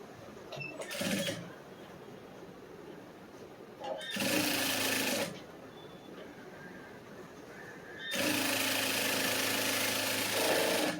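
A sewing machine stitches the folded hem of a blouse lining. It runs in three bursts of rapid, buzzing needle stitching, the last one longest, separated by quiet pauses.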